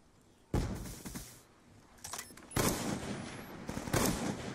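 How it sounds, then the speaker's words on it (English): Sharp bursts of gunfire and impact sounds from a video game shooter, with several loud hit-marker cracks arriving in clusters against a quiet background and no voice over them. "Here's the hit marker."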